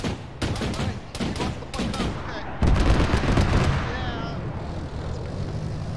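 Rapid bursts of rifle and machine-gun fire in a military video game, several sharp volleys in quick succession leading into a sustained loud barrage, with someone speaking over part of it.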